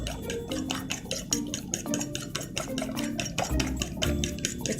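Salt and pepper seasoning shaken and mixed for eggplant mojos, a quick rhythmic run of light rattling and scraping strokes, close and fairly quiet, with no voice.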